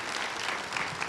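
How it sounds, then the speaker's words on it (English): Audience applause at a convention opening ceremony, dense continuous clapping from a large crowd, loud and steady throughout the brief moment. "Big round of applause, everybody."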